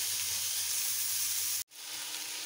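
Chopped tomato fries in a pan for village-style chicken gravy, giving a soft steady sizzling hiss that drops to a brief silence partway through and then resumes at a quieter level.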